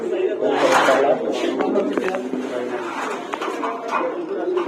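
Pigeons coo and flutter amid a busy background of chatter and scattered bird calls, the cooing steady and fairly close throughout.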